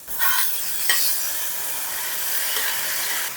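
Tomatoes and fresh peas stirred into a frying pan while cooking brinjal chutney, giving a soft, steady sizzle and hiss with a couple of light scraping stirs, close and fairly quiet.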